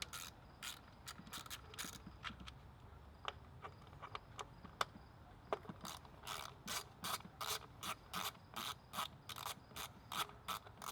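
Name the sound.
8mm ratchet loosening ignition coils on Ford Focus RS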